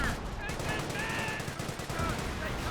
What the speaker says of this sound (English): I hear artillery running on him, but that could be just a Hummel.